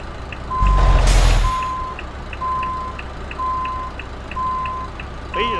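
Reversing alarm on a heavy truck in Euro Truck Simulator 2, a steady series of loud electronic beeps at an even pace over a low engine rumble, after a brief burst of air-brake hiss.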